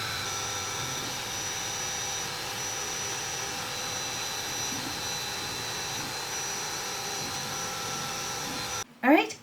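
A steady mechanical whir and hum from an M1 Ultra laser machine cutting pieces for a Halloween pumpkin basket, running continuously at a constant level before a brief voice near the end.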